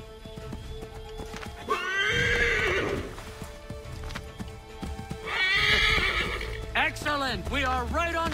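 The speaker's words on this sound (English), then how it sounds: "Get back on the horse, Connor." A horse in the video game Assassin's Creed III whinnies twice, loud and close, the second call breaking into a rapid series of short whinnies, over a steady background hum and faint hoof sounds.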